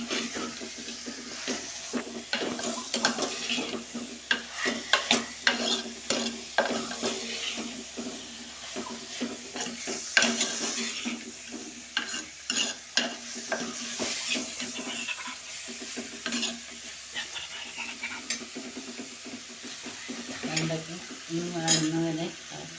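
Okra and fish curry being stirred in a pan, a steady run of scraping, clattering spoon strokes over a soft sizzle, close and fairly loud throughout with no talking.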